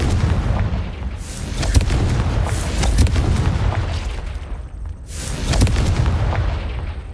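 In Hogwarts Legacy, the Confringo fire spell goes off in a string of heavy booming blasts, several loud explosive bursts rolling over a rumbling low background.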